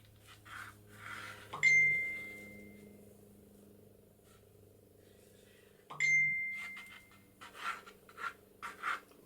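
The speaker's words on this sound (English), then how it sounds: "Sorry about the phone. Sounds like I'm getting some messages." Phone message notification tones go off twice during a quiet crafting session of gluing a cardboard and fabric journal cover, each a short bright chime with a brief ringing tail, about four seconds apart, followed by soft handling noises.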